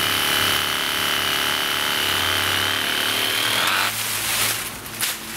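A pruning saw fitted with a reciprocating saw blade grinds steadily through hard timber, a loud, continuous buzzing cut that runs close up for about four seconds, then the motor stops and a few faint scrapes follow.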